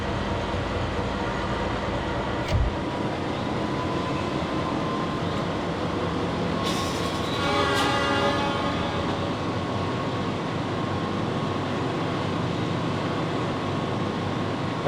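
A train in the Trainz Simulator game rolls into Gedangan station on a diverging track with a steady rumbling run, a brief horn blast early on and another longer horn sounding partway through, no voices.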